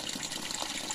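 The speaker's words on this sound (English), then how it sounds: "Look at that, the water is very strong." River water gushes strongly through a pipe or channel fed from the river, a steady, hissing rush with no break and no voices.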